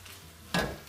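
Eggplant with onion and carrot stirred in a hot pan for a vegetable ragout, a faint sizzle suddenly swelling into a loud scraping, frying burst in the second half.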